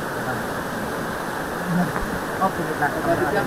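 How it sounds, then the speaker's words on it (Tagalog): Lagoon water and waves wash in a steady, loud broadband rush that continues throughout, with slight swells in the second half, as if heard close by. "Yung tubig tapos yung kasamang alon."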